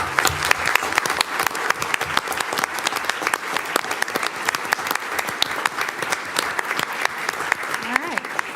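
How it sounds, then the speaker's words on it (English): A school board meeting audience gives sustained applause to arts teachers and sponsors as they stand, with many crisp, closely packed claps continuing evenly throughout and no talk on top. "take a moment to stand up where you are so we can applaud you for your support and dedication"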